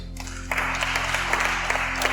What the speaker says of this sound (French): Très bien, acclamez-vous.